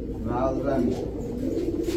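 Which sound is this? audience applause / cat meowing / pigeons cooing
pigeons cooing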